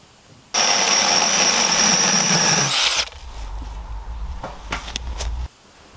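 A Grenintol 8-inch mini chainsaw runs up to a loud, steady high-pitched whine for about two and a half seconds, then drops to a lower, quieter running hum with a few brief revs before cutting off.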